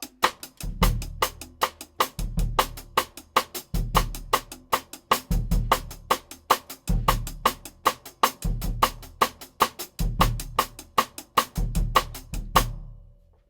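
A bossa nova drum groove with bass drum plays alone: crisp, evenly spaced cymbal or rim clicks over a repeating pattern of deep kick thumps, steady and close, stopping cleanly near the end.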